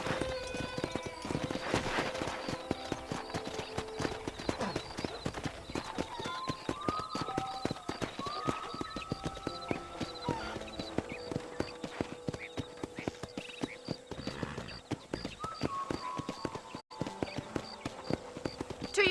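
Rapid hoofbeats clip-clop continuously at a gallop, with an occasional whinny and a music-like tonal bed underneath; busy and fairly loud throughout; horse riding in the video game Red Dead Redemption.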